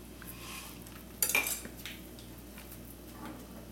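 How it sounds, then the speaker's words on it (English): A utensil stirs pakora dumplings through curry in a metal pot for a Punjabi dish, giving one sharp clatter and a few scraping knocks against the pot, fairly quiet and close. "all the pakoras in the curry. Stir it up a little bit."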